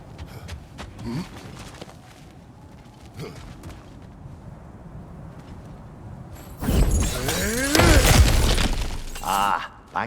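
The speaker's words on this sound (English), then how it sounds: "back to smashing through things for fun and profit" Objects shatter and crash in the video game God of War Ragnarok, a long loud burst of breaking debris after quieter creaks and scattered knocks.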